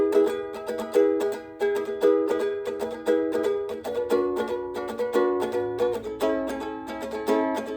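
A ukulele plays an unfinished song, bright plucked and strummed chords in a steady rhythm, close and clear, with no voices over it.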